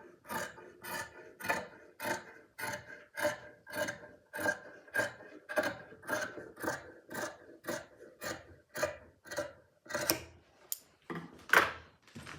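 Scissors slice through hand-woven cotton towel fabric along a marked line, giving a steady series of about twenty crisp, rasping snips at an even rhythm, close and fairly loud, with no talk.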